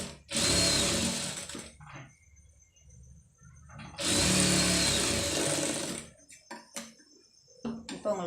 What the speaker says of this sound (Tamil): இப்போ இன்னொரு தையல் போட்டுடலாம்